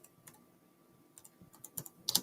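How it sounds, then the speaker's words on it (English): A short run of faint, scattered keystrokes on a computer keyboard as someone types a search, ending in a few louder taps. "if you go on the internet and just type in Magix Movie Studio"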